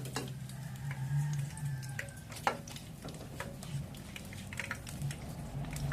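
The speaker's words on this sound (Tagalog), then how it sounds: "ito guys sa frying pan na ginprituhan ko ng tofu" Tofu frying in hot oil in a frying pan, a light continuous sizzle with scattered crackles and a sharp tick near the middle, close and fairly quiet, alone without talk.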